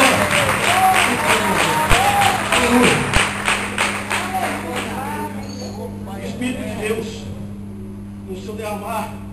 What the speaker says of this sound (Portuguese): eu pediria uma salva de palmas para o nosso